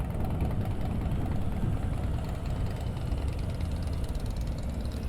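A motorcycle engine running at slow speed during low-speed riding practice, a steady low rumbling throb with a rough, knocking texture, moderately quiet and continuous without speech.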